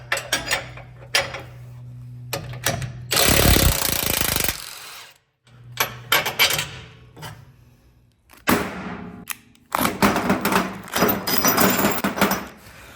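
Wrenching loose the bolt that holds a Jeep Wrangler or Gladiator lower control arm to the frame with a 21mm socket: loud bursts of impact-gun hammering, broken by short pauses and metallic clanks.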